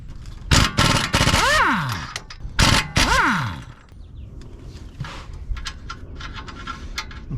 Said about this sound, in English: I'm just going to use impact gun on those as well.